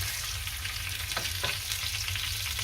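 Salmon pieces pan-fry in oil, a dense continuous sizzle close by, with a couple of brief scraping sounds and no talking.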